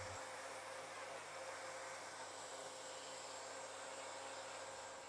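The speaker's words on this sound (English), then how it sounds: "I've got the vacuum cleaner out to give the monitor a quick clean" A vacuum cleaner cleaning a JVC CRT monitor drones steadily and evenly throughout, a constant motor whine with airy hiss and no talking.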